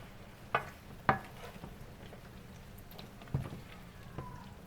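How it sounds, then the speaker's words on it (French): Beef being stirred and scraped in a hot pan to lift the cooking juices, a faint background sizzle broken by a few sharp utensil scrapes and clinks, no voices. "On racle le plus possible pour récupérer le jus de cuisson. On mélange."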